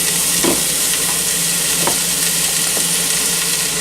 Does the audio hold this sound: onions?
yes